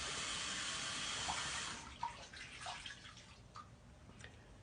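Tap water runs in a steady hiss, then cuts back as it splashes during face rinsing, with scattered drips and small splashes close by and no talking.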